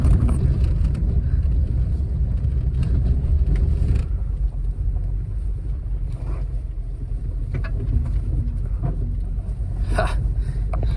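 A small truck grinds up a rough mountain dirt road, its low engine rumble steady and close, with wind buffeting the microphone and occasional knocks and rattles from the bumpy track.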